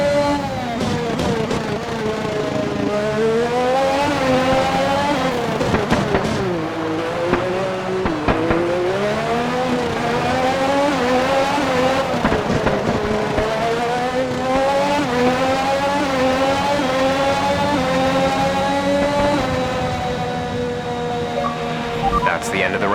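F1 race car engine on the final lap in the F1 2021 video game, loud and sustained with rising and falling revs through gear shifts and occasional tyre squeal, with a voice talking over it.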